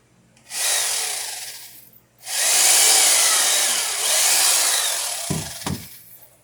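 A power drill whirs into wood on a wooden boat build in two bursts, the second longer and straining, followed by a couple of low knocks.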